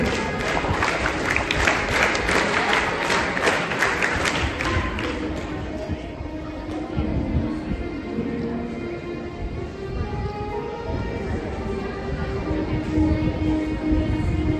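Students at a school investiture ceremony perform a scout clap: a burst of sharp, rhythmic group claps for the first few seconds, then a murmuring hall with scattered taps and shuffling.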